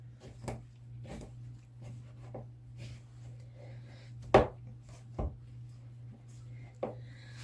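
Sweet condensed milk bread dough worked by hand: scattered soft squelches, slaps and rubbing sounds at irregular intervals, one sharper smack midway, over a low steady hum.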